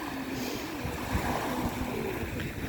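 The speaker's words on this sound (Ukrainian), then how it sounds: "Показую наше Чорне море." Black Sea waves washing onto the shore at Odesa's Golden Beach on a sunny December day, a soft, steady broadband wash heard from a little distance with light wind buffeting the microphone and no talking.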